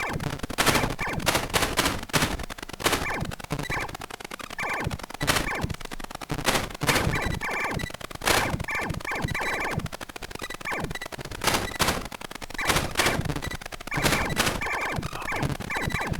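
Rapid electronic gunfire from the Picotage shooting game crackles in dense, repeated volleys for the whole stretch, bright and loud, with short bursts and rattling runs layered over a continuous game soundscape and no talking.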